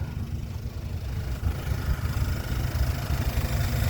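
The engine of a 1998 Toyota Tacoma idles quietly and steadily, a low even rumble close by with no talk.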